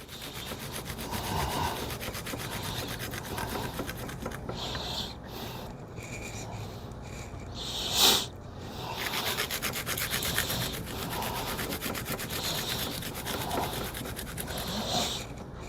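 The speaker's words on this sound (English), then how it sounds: "We're just grating this garlic because we want as much garlic flavor as possible in this garlic bread." Garlic is grated for garlic bread, making a close, steady rhythmic rasping scrape with repeated back-and-forth strokes and a brief louder knock partway through.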